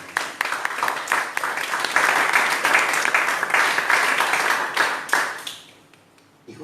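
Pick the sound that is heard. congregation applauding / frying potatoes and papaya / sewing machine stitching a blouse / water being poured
congregation applauding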